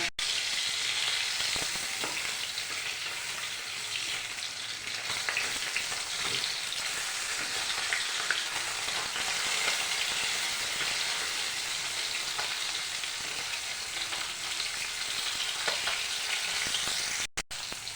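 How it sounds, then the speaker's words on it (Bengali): Bhola fish fillets sizzle steadily in hot oil in a pan, a dense, continuous frying hiss close by with occasional small pops and stirring clinks, no talking. "মাছগুলো আরেকটু উল্টিয়ে দেব।"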